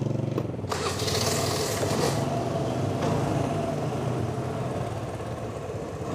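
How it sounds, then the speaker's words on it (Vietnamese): The engine of a 2010 Vespa Piaggio scooter idles steadily and somewhat noisily up close, a continuous chugging drone with a few faint clicks and no talk over it. "Xe này thì máy nó còn chạy được."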